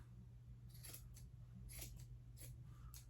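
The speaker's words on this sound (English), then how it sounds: "Then you're going to go through and just snip, just like that" Scissors snip through the yarn of a pom pom in four or five quick, crisp cuts, close and alone against a quiet background.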